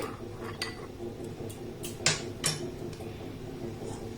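A utensil stirs a custard powder mixture in a metal pot, with soft scraping and a few light clinks against the pot, quiet and close.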